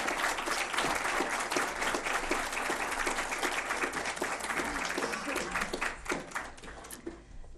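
Conference audience applauding as Dr. Beatrix Hoffman is welcomed to the stage, a full steady burst of many hands clapping that thins out and fades near the end.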